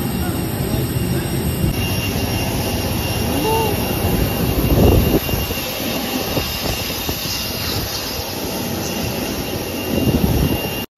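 Jet engine roar at an airport, a loud continuous broadband rush that swells slightly midway, with a faint high whine above it, ending in an abrupt cutoff.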